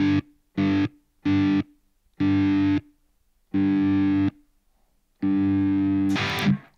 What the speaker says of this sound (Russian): Посмотрим, работает ли у нас kill switch сейчас с вами.